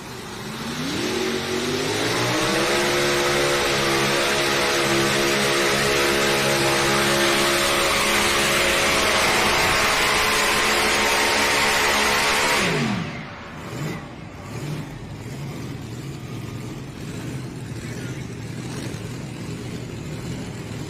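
Tractor-pulling competition engine under the night lights, a sustained loud roar that climbs in pitch for about twelve seconds before cutting off sharply, leaving distant crowd and engine noise.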